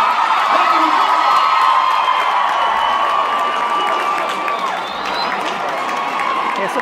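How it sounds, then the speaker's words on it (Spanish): A large crowd at a corrido concert cheers and applauds together, a sustained roar of clapping, shouts and whoops that stays loud throughout before easing slightly. "Quiero el aplauso y el grito de ustedes"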